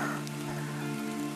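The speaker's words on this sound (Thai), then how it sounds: "ฝนตก" Rain pattering down through a rubber tree plantation canopy in a steady, even wash that fills the whole short stretch, with a low steady hum beneath.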